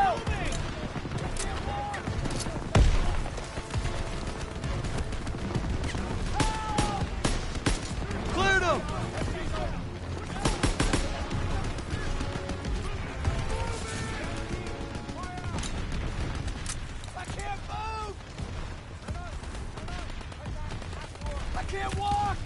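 Loud World War II combat rages in the video game Call of Duty WW2. Rifle shots and bursts of machine-gun fire crack one after another over rumbling explosions. Soldiers shout commands through the battle noise.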